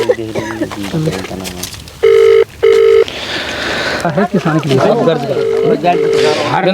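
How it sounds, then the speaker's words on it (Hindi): A mobile phone rings with no answer, two long electronic tone bursts and then a further fainter tone, over a farmer's field after a crop fire, with people talking around it. "लेखपाल तो फोन नहीं उठा रहे हैं"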